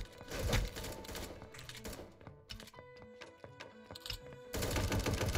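Rapid submachine-gun bursts crackle in a 1v1.LOL duos battle royale match, dense and loud, layered over busy game sounds and a tonal backing throughout.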